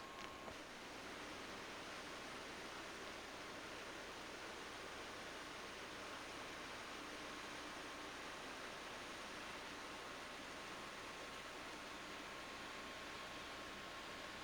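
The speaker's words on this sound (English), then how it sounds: "Just listen to the wonderful sound of the water here." Water from Muir Creek pours steadily into a pool on Vancouver Island's western shore near Sooke, a continuous broadband rush that stays even and close from start to finish with no voices.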